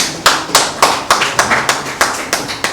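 A press conference audience claps in a steady, rhythmic unison beat, about a dozen sharp, close claps evenly spaced and loud throughout.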